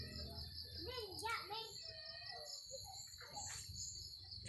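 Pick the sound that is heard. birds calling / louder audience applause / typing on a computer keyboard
birds calling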